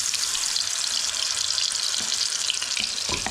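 Battered fish pakora pieces sizzle steadily in hot oil, a dense continuous frying hiss with a few brief splashes and crackles near the end as more pieces go in.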